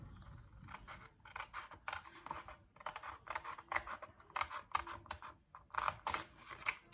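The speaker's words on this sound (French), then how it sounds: "on va couper la deuxième languette aussi" Scissors cutting through a backpack strap, with a series of quick crisp snips and rustling clicks in irregular bursts, close and fairly quiet, with no talking.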